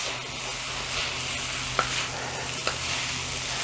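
Vegetable fried rice made with ordinary rice sizzles steadily in a hot pan as it is stirred, with two sharp utensil clinks against the pan, close and loud, with no talking.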